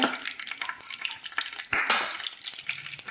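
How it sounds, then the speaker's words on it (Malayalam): Half a teaspoon of mustard seeds spluttering in hot oil in a pan for a Kerala-style koottu curry: quick, sharp crackling pops over a soft frying hiss, close by. "1/2 ടീസ്പൂൺ അളവിൽ കടുകാണ് ഇട്ട് കൊടുക്കുന്നത്. ഒന്ന് പൊട്ടി വരട്ടെ."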